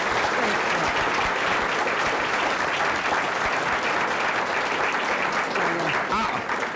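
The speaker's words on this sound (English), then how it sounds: "let's give Maria a great round of applause." Audience applause rings out for Maria at a Cook County Treasurer event, a steady dense wash of clapping filling the room, with some voices faintly mixed in.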